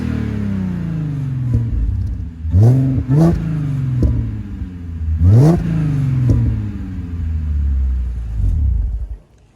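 Audi A6 with a Magnaflow catback exhaust revved in neutral up to its 4,000 rpm limiter, several sharp rising blips and a sustained rev over a deep idling rumble, loud and close.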